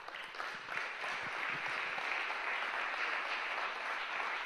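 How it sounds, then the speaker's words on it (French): An audience at a Paris innovation conference keynote claps for Augustin de Romanet, head of Aéroports de Paris, a fairly even round of applause throughout, heard from a moderate distance. "On peut l'applaudir."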